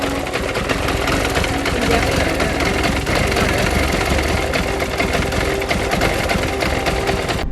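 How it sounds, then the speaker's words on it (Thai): A car engine runs rough right after starting, with a dense, steady rattling chatter and knocking close by that continues without a break. "พอสตาร์ทติดแล้วเครื่องมันเขย่าแรงมากเลยครับ"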